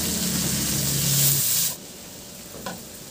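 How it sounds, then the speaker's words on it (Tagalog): Onion sautéing in a hot pan for a chicken dish, a loud steady sizzle and stir for about a second and a half that then drops off sharply, leaving a quiet background with one small clink. "Igisa ko na rin yung sibuyas."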